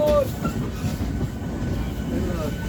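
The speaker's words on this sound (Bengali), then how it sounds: "এবারে কিন্তু আমাদের এই ট্রেনটি ব্যারাকপুর স্টেশন ছেড়ে বেরিয়ে যাচ্ছে" A local train pulls slowly out of Barrackpore station, a steady low rumble of the moving carriages with faint squeals and rattles, heard from on board.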